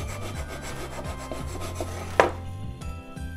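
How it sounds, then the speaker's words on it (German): A knife saws back and forth through a layer of gingerbread cake with steady rhythmic rasping strokes, ending in a sharper cut near the end before the sound thins out. "Mal so ein bisschen erst eine Führrille schneiden. Und dann geht es ganz, ganz einfach ganz durch."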